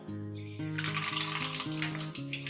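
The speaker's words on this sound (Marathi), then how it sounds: "तेल तापलेलं आहे. यात आपण घालूया 1 टीस्पून राई" Mustard seeds crackle and sputter in hot oil while a tempering for poha is being made, bursts of sizzling rising after a quiet start, set against a steady stepping melody of sustained tones.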